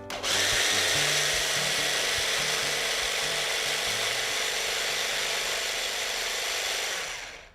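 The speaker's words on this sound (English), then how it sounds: "Measure 250 grams of fresh raspberries and 2 tablespoons of icing sugar into a small processor. And you just puree that." A small food processor purees fresh raspberries with icing sugar, a loud, steady whirring motor running continuously for several seconds before spinning down at the end.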